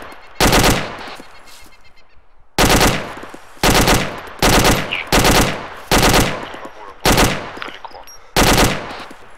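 Gunfire in ArmA 2 with the ACE mod, aimed at an enemy on a forested mountain slope: about eight loud, close bursts of automatic fire at irregular intervals, separated by short quieter gaps.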